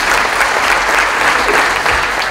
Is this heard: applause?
yes